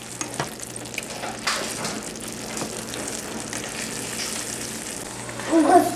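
Corn cooks in a pan with a steady, soft sizzle and faint stirring scrapes, fairly close, with a low hum underneath and a slightly louder burst of sizzle near the end.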